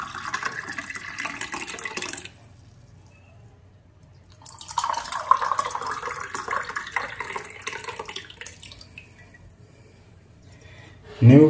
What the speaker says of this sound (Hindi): हम इसमें अपना नींबू पानी डालेंगे।